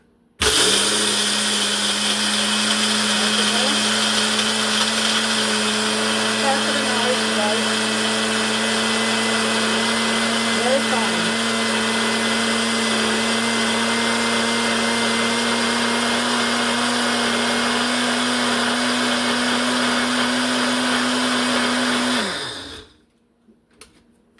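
A Ninja blender grinds cassava into flour with a loud, steady high-pitched motor whine that holds for over twenty seconds close by, then winds down and stops.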